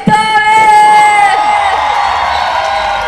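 Live audience at a Jovens Tardes stage show in São João de Meriti cheering and whooping loudly and continuously, a bright held musical tone ringing over the crowd noise.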